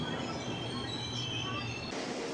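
The Hampi Express pulls into Hubli Junction, its cars rumbling with a steady roar and a high metallic wheel squeal, loud and close for the whole stretch.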